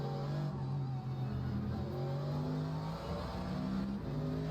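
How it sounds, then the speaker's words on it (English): An onboard race car chasing a V8 Mustang through Blanchimont at Spa gives a steady engine drone with whining gearbox tones rising and falling as the throttle lifts, loud and close throughout with no voices. "You can hear the gearbox whining as he lets off the throttle there."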